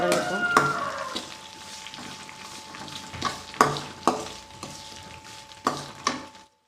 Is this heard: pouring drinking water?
no